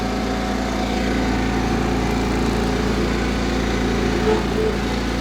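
Steady, close engine drone from a Cub Cadet 1330 lawn tractor creeping along slowly, a constant mower-like hum with no talk over it.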